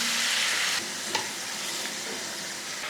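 Chicken pieces stirred in a hot pan give a close, steady sizzle and hiss, with a brief clink of the spoon partway through.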